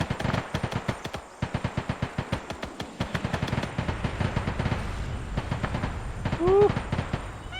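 Anti-aircraft guns firing in the ArmA 3 Vietnam-era combat mod, a long run of fast, evenly spaced heavy shots with brief gaps, loud and close, with people talking over the battle noise.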